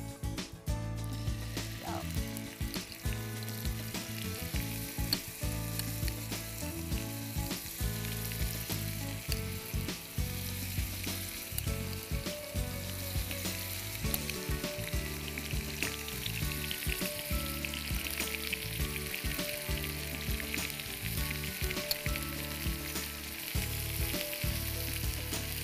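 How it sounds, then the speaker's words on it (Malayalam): Pieces of chicken frying in hot oil, with a loud continuous sizzle and crackle throughout, interrupted by the occasional scrape of stirring and no talk. "എണ്ണ ചൂടായിട്ടുണ്ട്. ഇതിലേക്ക് നമുക്ക് ചിക്കൻ ഓരോന്നായി ഇട്ട് കൊടുക്കാം."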